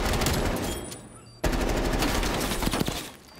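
Rapid automatic gunfire in Call of Duty Cold War Search and Destroy, loud near bursts with a sharp cut midway, then more sustained rattling fire; no talking over it.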